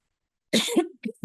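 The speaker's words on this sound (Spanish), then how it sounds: "Perdón por mi tos" A person coughs twice in quick succession, a harsh close-up burst followed by a shorter second cough and the start of a third, in an otherwise silent setting during an online course session.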